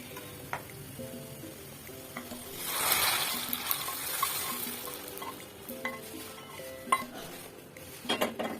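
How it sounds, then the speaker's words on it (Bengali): Lentil dal is tempered in a cooking pot, with a surge of sizzling as the hot spiced oil hits, alongside metal stirring clinks and scrapes against the pot, close and moderately loud. "ডাল বাগা দিয়ে দিলাম"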